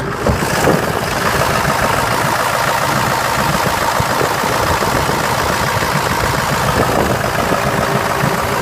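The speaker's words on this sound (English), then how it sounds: "Gotta love a diesel. And she starts right up, not plugged in or anything." A 7.3 diesel engine in a 2000 Ford F350 ambulance idles steadily and loudly up close, a dense, continuous clattering rumble with a faint knock and no voices throughout.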